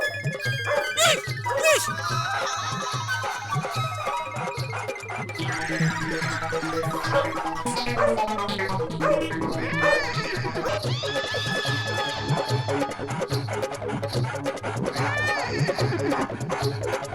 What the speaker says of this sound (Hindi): ये कुत्ता कहाँ से आया है?